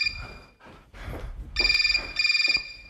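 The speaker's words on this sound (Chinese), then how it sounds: "我亲爱的秘密给我打电话。" A telephone rings in two electronic trilling bursts in the second half, loud and close, following a few muffled rustles and movements.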